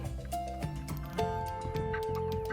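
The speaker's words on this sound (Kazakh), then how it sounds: "Тауық ко-ко-ко дейді." Domestic chicken giving a short run of fowl-like clucking calls, fairly close and clear, with steady tonal sounds layered through the short stretch.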